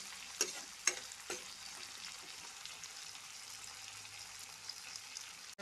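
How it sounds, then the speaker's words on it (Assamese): Spices and red chili stir in a frying pan for an Assamese recipe, a soft continuous sizzle broken by a few sharp spatula scrapes early on, quiet and close. "দি এইখিনি অকণমান ভালকৈ লৰাই দিছোঁ।"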